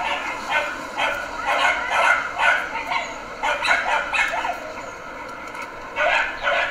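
Two young dogs bark and yip in bursts while playing outdoors, sharp repeated calls at close range with short pauses between them.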